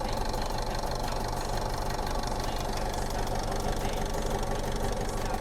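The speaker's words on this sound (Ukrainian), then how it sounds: "Йдемо та послухаємо двигун. Послухайте, як працює двигун." An Opel Vivaro van's 2.0 diesel engine idles steadily up close with a low, even rumble and a faint knocking rhythm, continuous and unchanging throughout.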